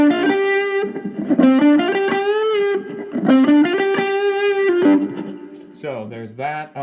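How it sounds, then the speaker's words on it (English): A three-string cigar box guitar plays a distorted phrase through a Roland Micro Cube GX with reverb, with sustained notes and bends ringing out up close, and a voice briefly cuts in near the end. "Nice, and some reverb."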